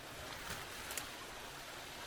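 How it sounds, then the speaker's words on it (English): Small stream with a couple of little waterfalls heard through bushes near a church in Cushendall, a faint steady wash of trickling water with soft rustling and no talk. "There's a stream with a couple of little waterfalls. You can just hear it through the bushes."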